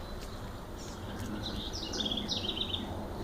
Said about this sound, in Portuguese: E o que você ouve aqui é o canto de pássaros